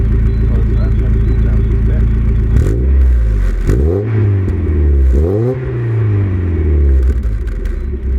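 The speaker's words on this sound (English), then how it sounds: "So let me give you a few revs" A car fitted with a Cobalt aftermarket exhaust rumbles at idle, then gets three sharp revs that swell and fall back, loud and close.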